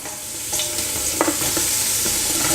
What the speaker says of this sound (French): on va mettre l'oignon, huile d'olive et directement, on va essayer de mettre l'oignon